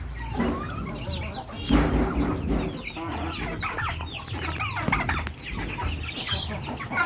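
Native chickens at a farm's new location cluck and chatter continuously, several birds overlapping nearby with busy squawks and a few louder calls over a low background rumble.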